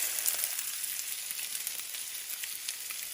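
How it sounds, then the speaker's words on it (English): Maple sausage frying in a pan: a steady, close sizzle with bright crackling pops spread evenly throughout, no voices. "All right, so we're ready to cook our sausage."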